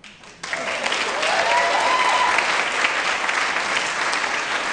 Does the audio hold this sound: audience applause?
yes